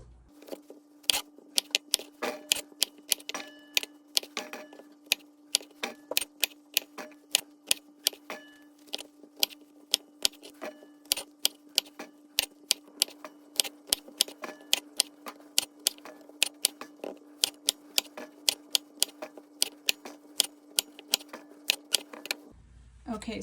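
A knife chops potatoes into pieces on a cutting board for a bacon egg bake, making a long series of crisp, irregular taps near at hand, with brief talk in between.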